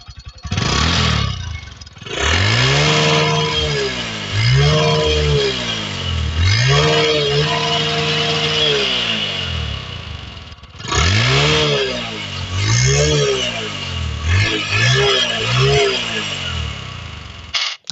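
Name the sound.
Bajaj Discover 100M motorcycle exhaust revving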